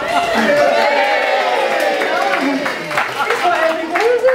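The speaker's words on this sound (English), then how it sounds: "Please shout at Hugh and make a round of applause, please." Guests at Hugh's 40th birthday party clap and cheer, a mix of scattered applause and raised voices blending with crowd chatter in a lively room.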